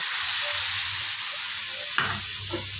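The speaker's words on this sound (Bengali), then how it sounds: "চিনিগুলি গলে গেছে এবার আমি দেবো এর মধ্যে কলার পেস্টটা" Banana paste added to melted sugar for banana halwa sizzles and fries steadily in the pan, with a brief scraping stir around the middle and more stirring after.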